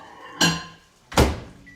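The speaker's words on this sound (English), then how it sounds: "And we're going to put that back in the microwave." A kitchen microwave door is handled with two distinct thunks about a second apart, the second louder and heavier, close and alone with a faint beep-like tone trailing after.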